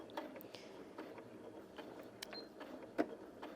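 A Janome Sewist 780DC sewing machine running a straight stitch after the start-stop button is pressed, giving a steady, quiet mechanical whir with small ticks and clicks, close by and with no talk over it.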